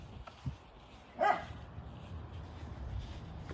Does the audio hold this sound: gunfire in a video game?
no